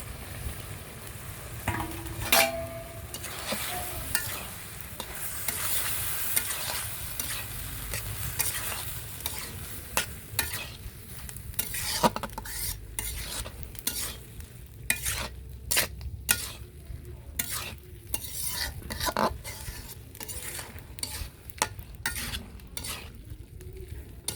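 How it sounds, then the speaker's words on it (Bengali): Fried young hilsa (jatka) fish go into a sizzling pan in a village kitchen and are stirred. A spatula scrapes and clicks repeatedly against the pan over a steady frying hiss, with no talking. "এখন মাছ দিয়ে দেবো ভেজে রাখা মাছ"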